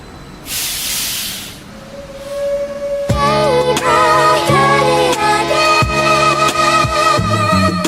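A beat built from subway recordings made around Jersey City: a burst of hissing air opens, then layered pitched train-like tones loop over punchy, regularly spaced hits, loud and close.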